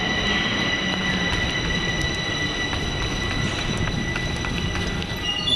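A metro train at an underground station makes a loud, steady rumble of wheels on rails, with high metallic squeals and whining tones running throughout and no voices.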